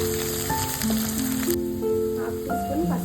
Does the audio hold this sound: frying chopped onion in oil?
yes